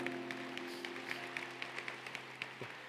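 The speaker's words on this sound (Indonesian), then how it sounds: "Berikan tepuk tangan buat Tuhan." Church conference audience claps in a faint, distant patter, with quick sharp hand strikes spread evenly over a low steady hum.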